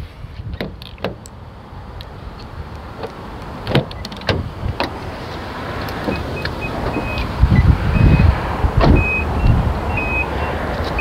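A 2009 Nissan Murano power liftgate rises with a low motor whir and a series of short, evenly spaced electronic beeps, the engine idling underneath and a few clicks near the start.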